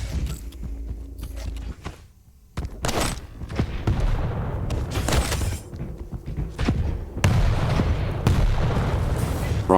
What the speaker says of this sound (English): Rockets coming down.